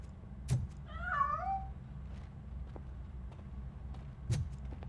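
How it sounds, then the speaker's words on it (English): A single short, faint meow from a cat in the RoboCop Rogue City video game, heard over a quiet low hum with a few soft clicks before and after. "That cat must be hiding inside."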